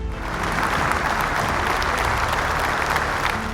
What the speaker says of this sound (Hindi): तालियों की गड़गड़ाहट से स्वागत कीजिए मिस्टर आमोश कुमार नायक का और मिसेस सिंधु आमोश का।